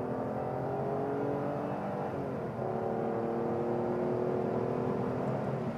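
A 1990s BMW 850Ci E31 coupe with a V12 and five-speed ZF automatic pulls smoothly, its engine a steady rising hum with a brief shift dip, heard from inside the cabin.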